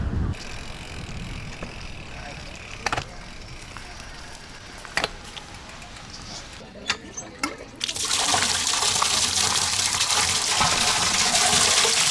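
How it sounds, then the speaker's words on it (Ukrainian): Drinking water gushes steadily from a tap in a city park, loud and continuous in the second half after a stretch of faint outdoor ambience with a few clinks. "Іду водички набирати."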